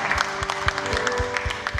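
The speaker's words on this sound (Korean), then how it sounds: "다시 한번 아버지께 영광의 박수 올려드릴까요?" A church congregation at a Thursday praise service claps in a steady, rhythmic beat, the sharp claps regular and fairly close, with a sustained tone underneath.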